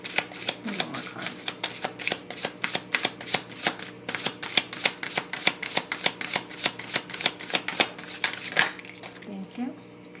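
Tarot cards shuffled in rapid, steady riffling bursts close to the mic for about ten seconds, with brief speech-like sounds near the start and end.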